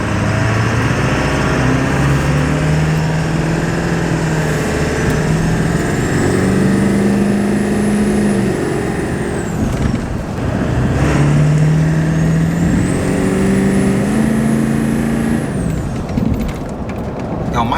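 A 7.3 Powerstroke diesel truck engine running on an 80 horsepower tune, with a steady loud drone and low engine tones that rise and fall. A voice speaks over it at times.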